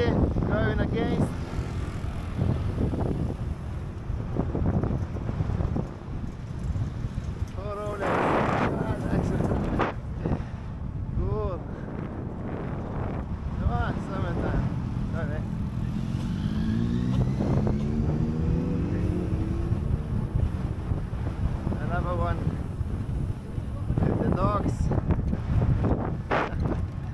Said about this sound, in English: Very windy, going against.